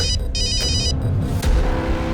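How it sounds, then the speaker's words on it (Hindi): A mobile phone ringtone chimes briefly, a short electronic melody over a steady background rumble. "अगं मोबाईलची रिंग वाजते, बघ जा कोणाचा फोन आहे बघ"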